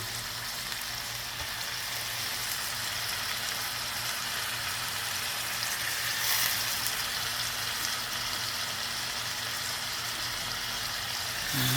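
Dried fish sizzles steadily in a hot pan, a close, even crackling hiss that continues throughout with no talk.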